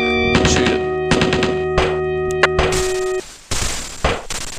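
Gunfire aimed at a bunker in the old PC game SealTeam: several sharp, loud bursts over a steady droning tone, then a harsh rushing noise with a few more hits.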